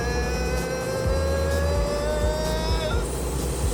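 A car engine revs hard at full throttle as it accelerates, its pitch climbing steadily, shifting briefly, then rising again, loud and close from inside the car.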